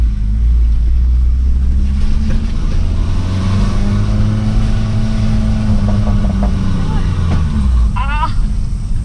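A Nissan March 12SR with manual transmission driving, its engine a loud, steady low drone and hum that rises slightly mid-way, heard from inside the cabin with people talking over it.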